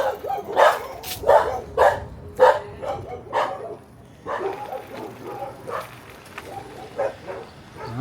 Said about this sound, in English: As long as those dogs stay locked up.